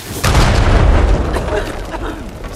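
A heavy explosion in a video game bursts in abruptly with a deep, loud boom, then rolls on as a low rumble that slowly thins out over the next two seconds.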